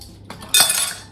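A metal spoon clinks against a bowl while butter and golden syrup are added to melted chocolate, a couple of light taps followed by a brighter, louder scrape and clatter, close and alone.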